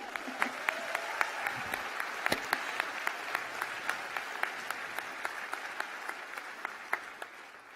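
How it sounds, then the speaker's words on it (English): Graduates at a university graduation ceremony applaud themselves in a steady wash of clapping from a large hall crowd, sharp individual claps standing out, fading slightly toward the end. "Give yourself a round of applause already"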